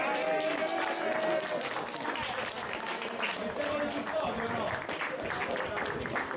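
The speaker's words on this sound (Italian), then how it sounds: "ti vogliamo fare un applauso a tutti che hanno lavorato" An audience applauding the workers at a competition held at Zoomarine in Torvaianica, a sustained dense wash of clapping with voices talking over it.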